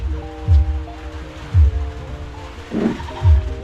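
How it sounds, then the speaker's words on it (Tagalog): Steady hiss of light rain falling on a surface, with a few low thumps and a faint hum in the background; no voices. "Pero hindi pa naman gaano malakas yung ulan."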